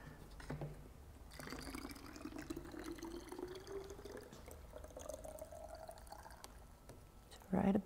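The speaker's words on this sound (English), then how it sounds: "And then I'm gonna fill it the rest of the way." Water is poured into a bottle to top it off while making a sweet thickener, with a steady filling sound whose pitch rises as the bottle fills. The pour is fairly quiet and ends with a brief clunk.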